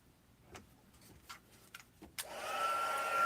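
A few scattered clicks and taps come first, then a heat tool for heat setting switches on with a sudden rising whoosh and settles into a steady, close blowing hum.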